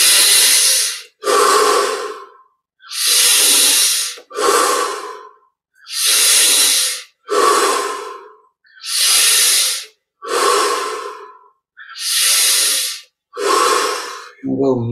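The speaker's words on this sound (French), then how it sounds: "On augmente l'amplitude de la respiration." Slow, deep meditative breaths during a yoga and chant practice, about ten long airy inhale and exhale cycles, each lasting about a second, with short pauses between, close and loud.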